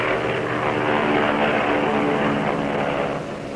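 Propeller aircraft engines of the Berlin airlift, cargo planes flying food and supplies into the city, produce a loud, steady droning roar that holds for several seconds and eases slightly at the end.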